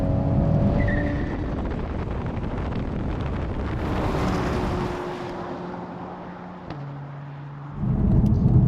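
Mercedes-AMG A45 S and Toyota Supra drag racing, engine roar heard from a distance through heavy wind noise on the microphone, building and fading with a steady droning rumble.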